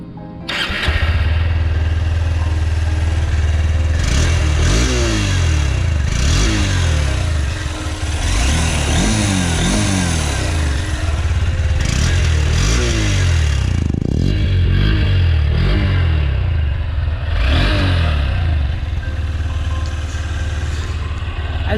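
A Honda Hornet 2.0 motorcycle exhaust at cold idle, steady and fairly high, a deep continuous rumble with a rhythmic pulsing beat that keeps going, loud and close.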